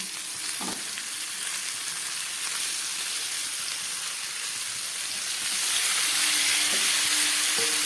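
Fish and potato pieces frying in a pan for a thin summer fish curry give a steady, close sizzle throughout, growing a bit louder near the end, with a few faint clinks and no talk.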